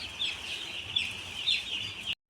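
Small young chickens cheeping and clucking in a series of high, thin calls, several overlapping chirps spread across a couple of seconds, close and moderately quiet, ending abruptly.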